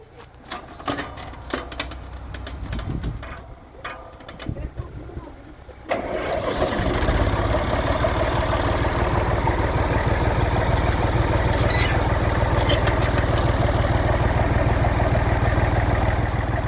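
Engine turned over and started in a village yard, settling at about six seconds into a loud, steady idle that fills the rest of the clip, with some talk before it.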